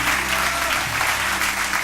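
Loud, dense applause from a church congregation during a morning service, continuous and close with a faint voice underneath.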